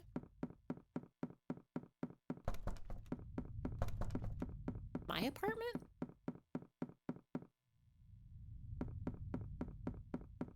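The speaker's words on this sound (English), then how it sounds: "The knocking on the door?" A door being knocked on in an apartment, with steady rhythmic knocks repeating throughout, a short pause near the end and then more knocking, while people talk over it.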